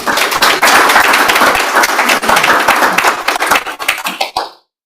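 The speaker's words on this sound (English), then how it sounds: "A round of applause." Conference audience breaking into sustained applause at an opening plenary, a dense wash of many hands clapping at close range that swells briefly and then tapers off to silence.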